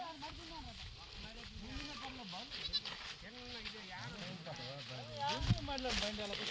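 Goats bleat repeatedly in wavering calls, several animals of a Yadava herders' flock in Srikakulam, India at once, with a person talking over them and a brief louder thump near the end.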